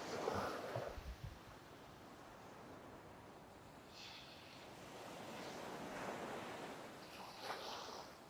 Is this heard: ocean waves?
yes